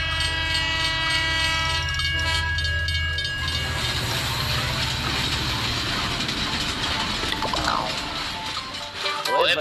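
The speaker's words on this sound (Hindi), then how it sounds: "तभी स्टेशन पर ट्रेन आकर रुकी।" A cartoon train pulls into a station and stops, sounding a loud, sustained horn at first, then rumbling and clattering as it slows, with people talking faintly underneath.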